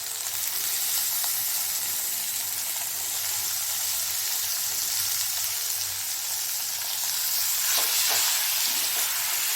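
Bottle gourd and spinach fry in a pan with a constant soft sizzle and hiss, while occasional light scrapes and clinks of a stirring spoon come through near the end.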